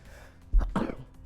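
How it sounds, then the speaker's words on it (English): A single short sneeze or cough bursts out close to the microphone at the end of a livestream pause, brief and sharp, with no speech around it. "Oh no, a sneeze is coming."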